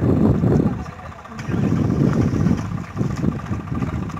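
A tractor pulling out of a soft field, its engine labouring and revving unevenly in loud rumbling surges, with a few faint voices in the background.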